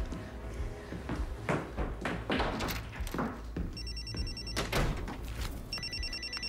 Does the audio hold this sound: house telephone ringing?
yes